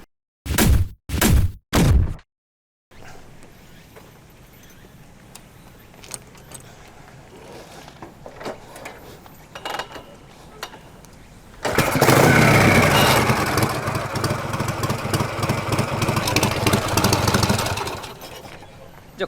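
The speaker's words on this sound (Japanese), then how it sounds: "じゃあこのような形でヴィンテージハーレーはかかりますということで" Vintage Harley-Davidson motorcycle with stock chassis and modified intake and exhaust, kicked over with a few loud thumps, then a quiet rumbling spell before the engine catches and roars loudly at close range for several seconds.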